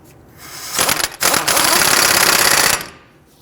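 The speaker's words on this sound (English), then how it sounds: "Install your axle nut. Go ahead and tighten that down." An impact wrench tightens the front axle nut on a 2006-2012 Toyota RAV4 in loud rapid hammering bursts, a short burst then a sustained rattle of about one and a half seconds, close and dominant.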